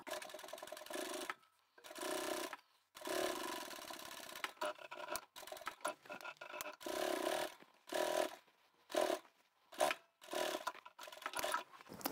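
A sewing machine stitching along the seam of a fabric quilted bag in short, quiet bursts of whirring that stop and start with pauses between runs.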